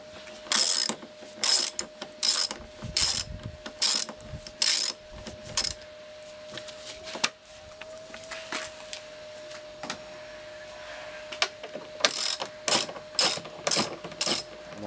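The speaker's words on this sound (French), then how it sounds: "On va prendre une douille de 10 là, et puis tu vas m'enlever les fixations supérieures du bouclier." A ratchet fitted with a 10 mm socket works on the upper fasteners of a car's front bumper, heard as close bursts of rapid clicking, several runs of ratcheting separated by pauses, with no talk.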